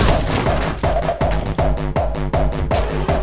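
Rapid automatic gunfire in the game Anger Foot, loud and continuous, with sharp shots fired in quick succession and a steady rhythmic pounding throughout.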